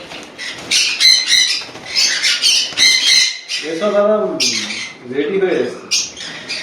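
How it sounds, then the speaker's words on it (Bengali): Small pineapple conure parrots squawk in repeated harsh bursts, loud and close, with a few lower chattering calls mixed in. "এগুলো সব কন্যু তাই তো পাইনাপেল কন্যু"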